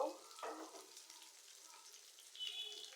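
Onion, tomato and green chilies sizzle and fry in rice oil in a pan, a soft, steady crackle with brief stirring swells near the start and end, heard close and alone.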